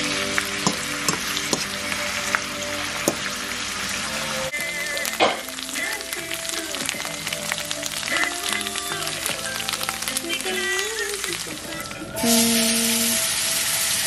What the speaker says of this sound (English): I'm just gonna stir it up. And we're gonna let that simmer